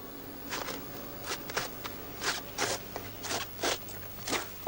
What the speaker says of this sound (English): A small, narrow spade makes debarking a quick and simple process.